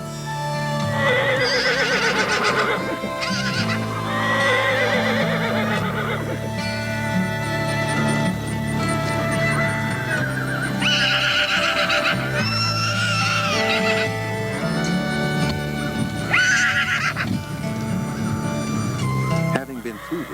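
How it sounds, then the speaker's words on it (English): Thoroughbred mares and foals at a farm whinny and neigh back and forth, loud overlapping calls, some close and some distant across a pasture, continuing for the whole stretch over steady background noise. "the mares recognize their babies' distant cries"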